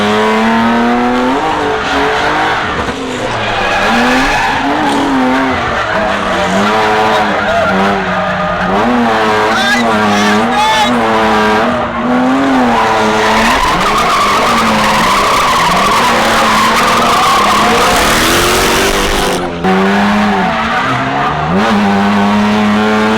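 Cars at a car show driving hard and skidding, with continuous loud tire squeal and revving engines wavering in pitch for the whole stretch, close by and with no talk.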